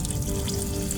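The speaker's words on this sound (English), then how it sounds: "Now I'm adding a little bit of really hot water." Really hot water pours into a pot of Hungarian goulash, a brief, steady splashing rush that is close and fairly loud.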